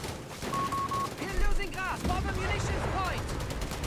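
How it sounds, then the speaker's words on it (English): Rapid bursts of machine gun fire in Company of Heroes 3, a Desert Afrika Korps versus US Forces match, with dense overlapping shots and battle noise throughout and faint whistling tones. "South side machine gun moving up."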